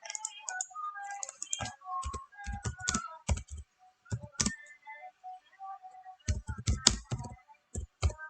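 Someone types on a keyboard up close, with crisp individual key taps in quick irregular clusters separated by short pauses, clear and alone against a quiet background.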